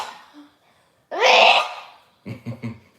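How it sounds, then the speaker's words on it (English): A child's fake sneeze bursts out loud and breathy after a quiet pause, followed by a few short voiced sounds. "Another fake sneeze."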